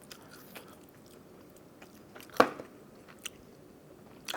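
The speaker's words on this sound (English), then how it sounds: "I finished chewing this" Someone chews Korean convenience store food close up, soft quiet mouth sounds with one sharper crunchy bite midway and a few small clicks, no talking.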